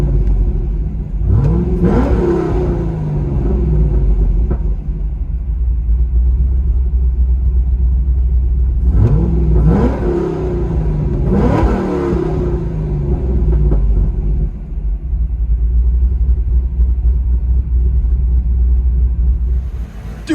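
A freshly built cammed 2008 Chevy Corvette with a 6.0L V8, headers and a Corsa Extreme exhaust, recorded from inside the cabin: a deep, loud lumpy idle broken by several sharp revs that swell and fall back.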